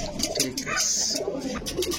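Pigeons coo at a Bangladeshi pigeon market stall selling Pakistani, golden, teddy and similar fancy breeds, a steady murmur of several birds under faint chatter.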